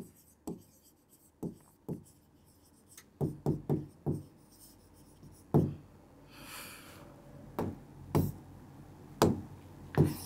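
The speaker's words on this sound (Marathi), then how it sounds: "आता इथं लिहितो मी" Chalk or marker taps and strokes across a board during a wave optics lecture form irregular bursts of knocking strokes, close and fairly loud, with brief pauses between.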